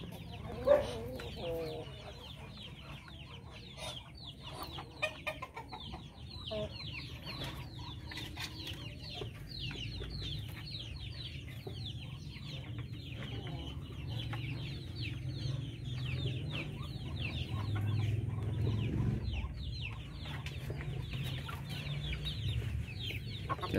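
Darag native chickens clucking in a backyard farm, a busy mix of soft, scattered clucks and calls from several birds at moderate distance, with faint background noise throughout.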